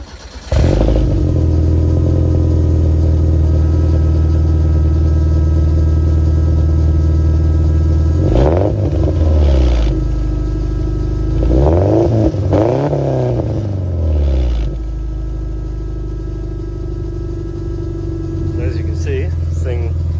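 A Subaru Leone with a swapped EJ20 engine cranks and catches, then idles with a deep, steady rumble and a loud fuel pump, briefly revving a few times before settling back down.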